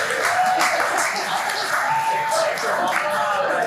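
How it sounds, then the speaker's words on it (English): An audience at a comedy-style graduation show gives a round of applause, steady clapping with some cheering and whoops, a voice briefly audible over it. "Let's give a round of applause."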